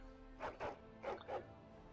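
A small dog in the video game Dragon Age: Origins lets out four quick yipping barks in two close pairs, faint and slightly whimpery over a quiet background.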